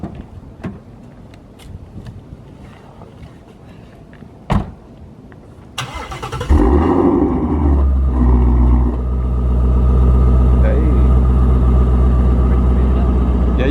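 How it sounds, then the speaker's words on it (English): A 2017 Ford Mustang GT350R with a six-speed manual starts up after a door thud and some quiet talk, then its exhaust booms into a loud, deep, steady rumble that swells as the engine revs. "You want to let them hear how the exhaust sounds?"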